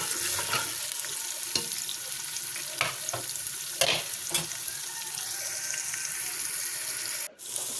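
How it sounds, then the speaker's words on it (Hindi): Sliced onions frying in hot cooking oil for a desi chicken karahi, a steady loud sizzle and crackle close by, with scraping stirs and a few clunks of a spoon against the pan. "कुकिंग ऑयल गर्म हो गया है, अब हम इसके अंदर शामिल करेंगे प्याज शामिल करके इसको अच्छा सा लाइट ब्राउन कर लेंगे।"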